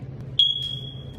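A smoke detector lets out a single sharp, piercing beep that rings on briefly over a low background hum, moderately loud.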